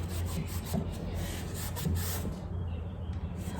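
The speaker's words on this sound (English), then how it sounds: "to take my rag into the wax and rub it around." A rag rubs wax onto a particle board dresser drawer in a continuous, close, soft scuffing swish with slight rhythmic strokes, steady and unbroken with no talk.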